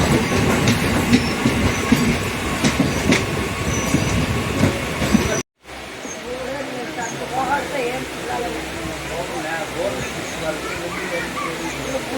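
A passenger train from Karur Junction to Trichy Fort rumbles along with rattling wheels and occasional squeals, a sudden cut, then a quieter steady rolling hum while a voice talks over it.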